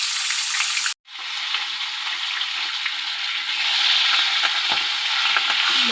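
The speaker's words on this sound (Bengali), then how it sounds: "মাছটা আমি ভেজে নিই প্রথমে।" Rohu fish pieces frying in hot oil for a rohu and eggplant curry give a loud, steady close-up sizzle that cuts out briefly near the start, then resumes and swells slightly.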